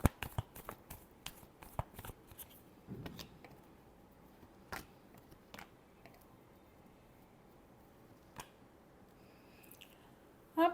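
Tarot cards shuffled by hand in a series of crisp, sharp riffles and snaps, close and fairly quiet, bunched early then spaced out with pauses and a final flurry at the end.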